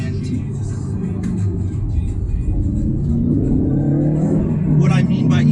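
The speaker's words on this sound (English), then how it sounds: "you can finally hear the exhaust" Deep, rumbling Invidia N1 aftermarket exhaust on a 2018 Subaru STI Type RA droning steadily from inside the car, swelling slightly as the engine revs, with a voice talking over it.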